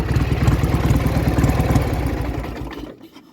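An old Soviet Ural IMZ motorcycle engine idles just after a cold start, a close, loud, steady low chugging that runs evenly before dropping away near the end.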